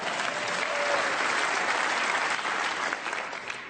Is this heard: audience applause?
yes